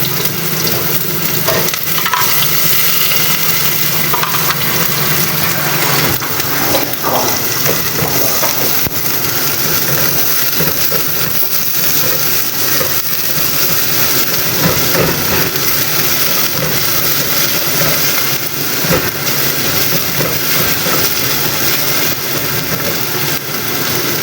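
Garlic and onion sizzling and frying in a pan, a loud steady crackle throughout with occasional stirring scrapes and no talk.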